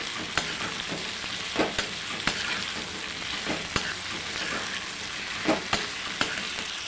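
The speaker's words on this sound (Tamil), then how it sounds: "கொஞ்சம் நல்லா வதக்கணும் உள்ள முள்ளங்கி எண்ணெயில்" Radish sizzling and being sautéed in oil for vegetable sambar, a continuous crackling fry with periodic sharp scrapes and knocks of a stirring spoon against the pan.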